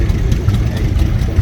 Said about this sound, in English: So this one is a nice little half-scale engine that the Mcau had